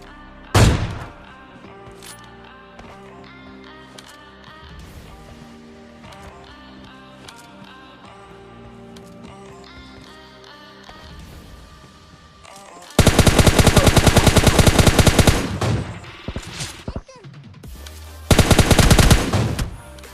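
Automatic gunfire in a shooting video game, first sparse single shots and then loud sustained bursts of rapid fire in the second half, with background game sounds between them.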